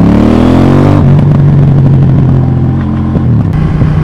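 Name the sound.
KTM Duke 790 motorcycle engine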